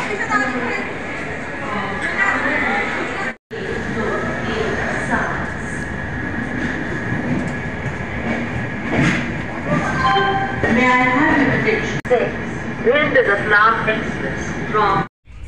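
The 12177 Chambal Express rumbles steadily into busy Gwalior Junction station, wheels faintly squealing against the rails while people chatter nearby.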